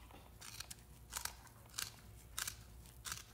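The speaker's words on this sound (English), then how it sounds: "I'm keeping my scissors tip shallow" Scissors snipping through a fish's skin during taxidermy skinning, the tip kept shallow: five crisp, close cuts spaced about every half second over a quiet background.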